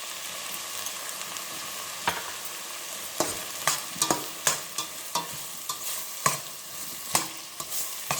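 Red chili powder sizzles in hot oil while being stirred, a steady frying hiss cut by frequent sharp utensil scrapes and clicks against the pan, close up, with no speech.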